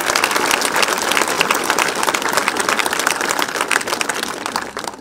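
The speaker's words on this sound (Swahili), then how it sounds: "Tafadhali tupigieni makofi." A crowd of students breaks into loud, sustained applause at a speech in Taita Taveta, dense clapping that holds steady throughout and eases slightly at the end.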